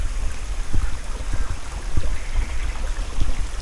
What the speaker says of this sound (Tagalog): Galing bukal ang tubig yan.